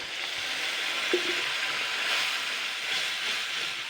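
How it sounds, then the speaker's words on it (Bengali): Water poured into a hot pan of frying spices, onion and tomato for an egg and banana-flower fritter curry, giving a loud, steady steam hiss with a brief sputter, alone without voices. "1 মিনিট নাড়াচাড়া হয়ে গেছে, এবার আমি জল দিয়ে দিচ্ছি।"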